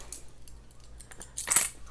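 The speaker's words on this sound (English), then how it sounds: "So I'll just put the coins." A brief metallic jingle of coins dropping into a Louis Vuitton Zippy coin purse, quiet and close, with a faint background hum.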